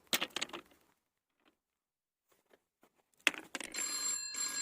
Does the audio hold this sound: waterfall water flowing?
no